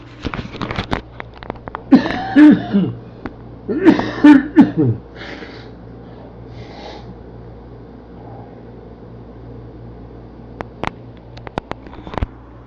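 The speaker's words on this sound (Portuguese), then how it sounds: "Já está começando a me dar aquela vontade de tossir." A few harsh coughs and throat-clearing bursts, close and fairly loud, separated by pauses over a low steady hum, with scattered clicks.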